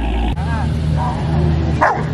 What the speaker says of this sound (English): the dog just starts barking out of nowhere